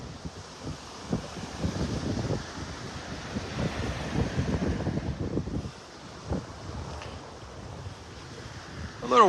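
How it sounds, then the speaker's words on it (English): Waves wash along the sandy shoreline of Vanderbilt Beach in North Naples on a blustery morning, with surging surf rising and falling under heavy wind buffeting close to the microphone. "A few more waves along the shoreline here."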